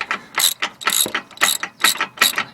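Ratchet wrench with an impact-type socket that does not fully seat, worked on the upper ball joint of a Ford Explorer driver side, giving about six quick bursts of loud, close clicking with brief pauses between strokes.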